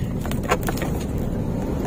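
A Toyota Innova drives along, a steady low road and suspension rumble with wind noise and a few faint light knocks, heard from inside the cabin for a short moment.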